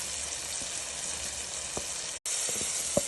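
Onion-garlic paste and chilli frying in a pan for chicken biryani, a steady loud hiss of oil with a few faint stirring clicks, close and continuous.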